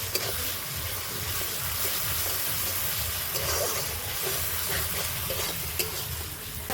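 Chilli, onion and ginger fry in hot oil for a mutton kosha, giving a steady close sizzle and hiss with scattered small crackles throughout, with no voices.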